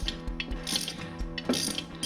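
A ratchet spinning a nut onto a Hotchkis lower bumper mount bolt, rapid regular clicking pawl strokes in quick succession, close and clear with no talking.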